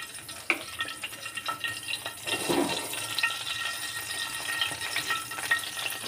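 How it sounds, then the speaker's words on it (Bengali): Hilsa fish fries in hot oil in a tawa pan with a dense, steady sizzle and crackle that continues throughout, loud and close, without talk. "এখন আমি তুলে নেব ইলিশ মাছ, ভেজে নেব। এখন অয়েল হিট হয়ে গেছে তাওয়ায়,"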